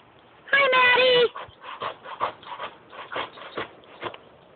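A dog whimpers and whines in short bursts outdoors while someone tries to cut down a tree, with a louder whine near the start and people talking softly.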